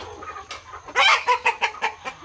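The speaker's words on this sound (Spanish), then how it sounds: "Ese gallo sí es grande." A large rooster clucks close by in a rapid series of throaty, rhythmic clucks, loud and clear over a low background hum.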